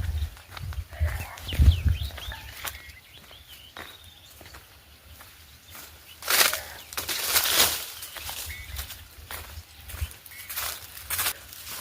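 Goats shuffle and bleat faintly while feed is handled nearby, with rustling, footsteps, and bursts of crunchy, scraping noise in the middle.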